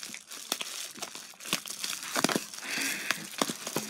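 Crinkly plastic and paper rustle and tear up close as the packaging of a Canon G7X camera box is pulled open, with scattered crackles and no talking.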